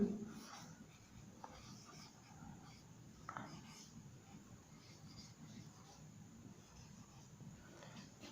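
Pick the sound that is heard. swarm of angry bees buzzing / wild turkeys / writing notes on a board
writing notes on a board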